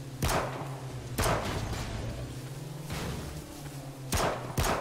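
Gunfire in a PUBG-style shooter video game, four sharp, loud shot bursts spaced about a second apart, over a steady engine drone from a vehicle.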